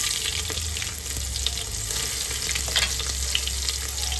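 Green garlic sizzles in hot oil with stuffed brinjal masala for Gujarati bharela ringan nu shaak, a steady close frying crackle with occasional stirring scrapes and no talk.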